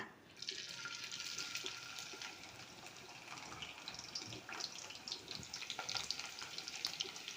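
Chopped onions hit hot oil in a wok, setting off a faint, continuous crackling sizzle with watery hiss and scattered pops throughout.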